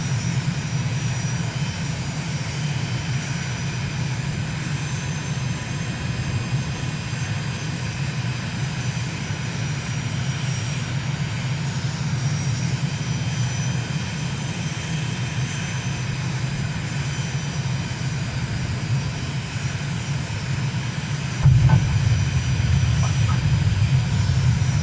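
A steady, droning propeller-plane engine hum from a flight simulator aircraft on a landing approach in Uruguay holds level and unbroken, then grows slightly louder and fuller near the end.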